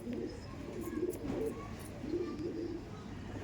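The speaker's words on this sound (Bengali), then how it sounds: "সবুজ পায়রার কালেকশন খুবই সুন্দর সুন্দর আছে" Madrasi pigeons at a seller's home loft in Howrah coo in low, repeated rolling phrases close by, a steady murmur of several birds with faint chirps above it.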